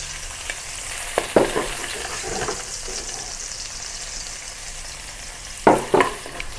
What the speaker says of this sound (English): Sear the beef on both sides.